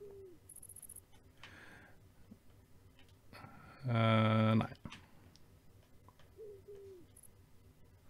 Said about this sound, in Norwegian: Det høres ut som det er en due i bakgrunnen.